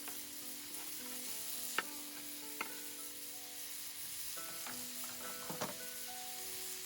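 Teriyaki chicken sizzles steadily on a hot griddle, a continuous frying hiss with a few sharp clicks and scrapes of a utensil moving the pieces around.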